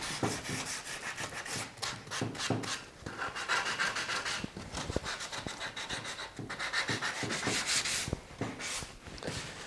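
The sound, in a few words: sanding teak garden bench wood by hand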